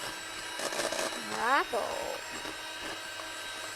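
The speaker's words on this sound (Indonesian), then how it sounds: "Isiannya kita mixer dulu. Supaya lembut dia. Tuh, di mixer." An electric mixer beats cake filling during a live baking demo, giving a steady motor whir that runs under a person talking.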